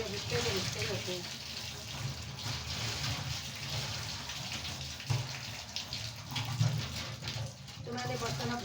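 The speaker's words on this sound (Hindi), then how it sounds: "मैंने बर्तन अब धो लिए" Tap water runs steadily in a home kitchen sink while dishes are washed, a continuous close splashing gush with occasional clinks and bumps, and voices talk faintly in the background.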